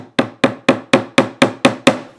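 Seven sharp metallic taps from the flat closed jaws of a multi-purpose wrench used as a small hammer, struck at an even steady rhythm, loud and close with no talk.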